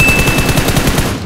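Loud, continuous rapid gunfire from a battle in BGMI shoots at enemies in a rhythmic automatic stream. Close and dominant for the whole stretch, it fades slightly at the end.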